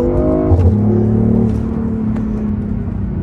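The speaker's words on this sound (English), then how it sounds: "Sada je u sport modu." A BMW i8 hybrid sports car running in sport mode gives a close, loud engine growl that rises in pitch and then settles into a steady humming drone, heard alone without talk.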